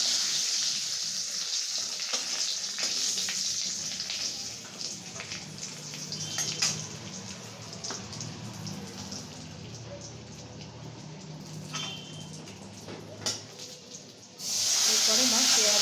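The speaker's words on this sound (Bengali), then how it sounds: "মা প্রথমে গোটা গরম মশলা আর তেজপাতা ফোড়ন দিল।" Whole garam masala and bay leaves sizzling in a mix of ghee and hot oil, a continuous hiss that rises and falls with faint crackles, ending in a sudden louder burst of spitting.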